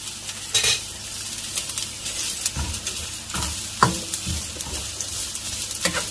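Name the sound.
frying long-cut carrots in hot ghee in a wok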